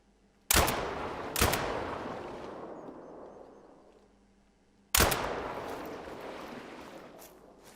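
Shotgun blasts loaded with buckshot or birdshot, fired at an animal in a hunting video game: two sharp shots in quick succession, each with a long decaying boom, then a pause and a third loud blast.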